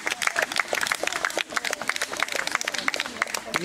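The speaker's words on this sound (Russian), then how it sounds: "хлопают." Spectators clapping at a dachshund show during the veterans' class, a steady patter of many hands with sharp individual claps, fairly close, mixed with some murmuring voices.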